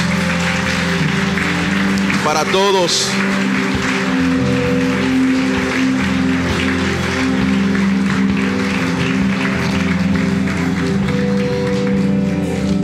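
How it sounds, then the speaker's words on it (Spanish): Warm audience applause welcoming a family at a church gathering, a continuous rain-like wash of clapping over a steady low hum, with a short voice near the start. "Le damos la bienvenida con este caluroso aplauso para todos"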